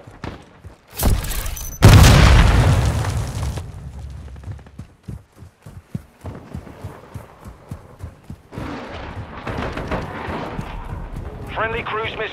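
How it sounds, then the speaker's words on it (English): Cruise missile strike explosions in a Call of Duty Modern Warfare II team deathmatch: a sharp blast, then a long loud rumbling boom, followed by scattered gunfire and later blasts, with a voice speaking partway through. "Friendly cruise missile deployed."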